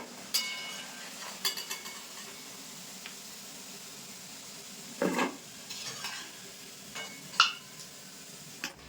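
Potato balls frying in hot oil give a steady faint sizzle, broken by several sharp clinks and scrapes of a utensil against the pan at irregular moments, with no voices.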